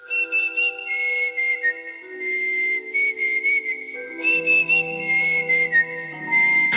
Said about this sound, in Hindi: आज उन गानों को हम शामिल करेंगे जिनमें है सीटी की आवाज